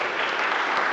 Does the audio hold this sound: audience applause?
yes